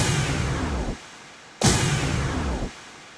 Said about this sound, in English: So it's just a snare with an effect,